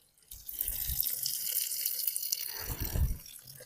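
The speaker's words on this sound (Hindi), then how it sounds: "देखो, अभी मैं इसे धो रहा हूँ।" Water pours and splashes from a small tank's outlet as grapes are rinsed in a vineyard, a continuous close rush with a brief louder splash near the end.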